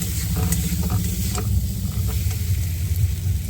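Crab curry masala with fried potatoes is stir-fried in a pan, giving a close, continuous sizzle with scraping stirs throughout.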